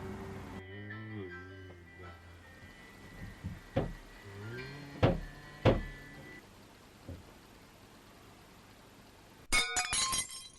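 Glass breaking during a break-in at a pub, a few sharp crashes and clinks spread over several seconds amid low room noise and a steady tone, ending in a bright burst of shattering.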